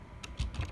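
A single press of the Enter key on a computer keyboard, a short close click and thump in a quiet room with no talking.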